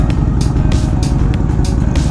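Car climbing a mountain road near Lake Tahoe slowly in second gear, a loud close engine drone with a steady low rumble and rhythmic bursts of wind or road noise roughly every third of a second.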